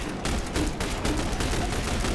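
Sustained gunfire from The Bureau: XCOM Declassified, a dense run of rapid shots with no break, loud and close throughout.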